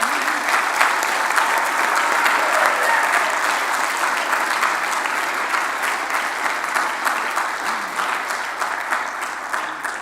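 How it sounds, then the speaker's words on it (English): An audience at a school fine arts competition breaks into steady, dense applause for the helpers, a full crowd clapping loudly and continuously throughout. "We need to give them a good round of applause"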